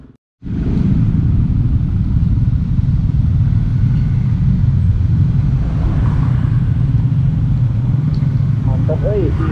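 Congested holiday traffic on an Indonesian road near Muntilan, with cars and motorcycles idling and creeping along, a steady low engine rumble close by throughout, and speech mixed in.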